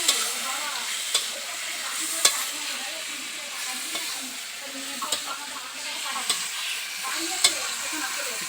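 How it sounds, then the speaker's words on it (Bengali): Mutton curry masala stirred and fried in a pan, village style: a steady close sizzle with sharp scrapes and clicks of the spoon against the pan every second or so, no talk. "এবার এটাকে নাড়িয়ে নিতে হবে।"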